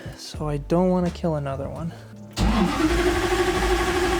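Starter cranking a Lexus 1UZ V8 engine, the whine rising and dipping in a few uneven pulses before the engine catches and runs with a loud, rough roar, close up, with someone talking over the first part.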